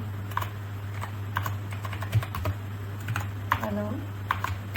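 Paragraph being typed on a computer keyboard, quick irregular bursts of close key clicks with a short murmur of voice and a steady low hum beneath.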